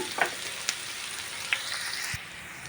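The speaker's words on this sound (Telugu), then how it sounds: "మనము ఆనియన్స్ కాస్త దగ్గర పడేంత వరకు ఉడికించుకుందాం వీటిని." Onions sizzling steadily in a pan for a moong dal cauliflower curry, a continuous close hiss with a few faint clinks of a utensil.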